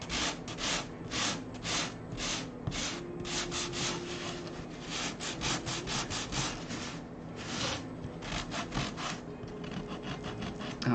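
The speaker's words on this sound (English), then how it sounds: "sanding Bondo still gets that fresh Bondo smell out into the air" Rhythmic back-and-forth hand sanding of Bondo body filler, close and steady scratchy strokes repeating in quick bursts with brief pauses.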